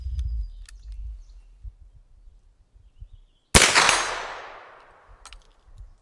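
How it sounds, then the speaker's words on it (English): A bullet from a Shenandoah .36 caliber cap and ball revolver strikes a steel target with a single sharp metallic ding that rings out and decays over about a second, following quiet outdoor ambience with faint bird calls. "Heard it ding that time."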